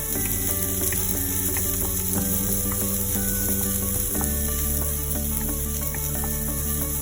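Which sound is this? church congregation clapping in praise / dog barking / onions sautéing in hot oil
onions sautéing in hot oil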